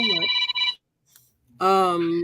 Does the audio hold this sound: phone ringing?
yes